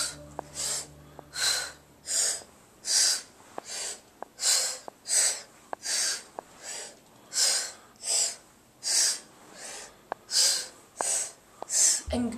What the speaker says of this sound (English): So it looks like inhale, exhale, inhale, exhale, inhale, exhale, inhale